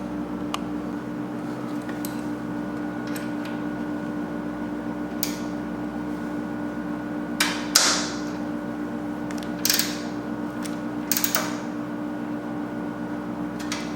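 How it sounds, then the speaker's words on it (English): Metric bolts being tightened on a power washer: a steady mechanical hum with scattered sharp metallic clicks and ratcheting snaps at irregular intervals, close by, with no talk. "got all my little metric bolts all tightened up"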